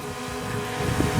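A breeze buffets the microphone during a boat ride, giving a brief, steady rush of wind noise over a low engine rumble.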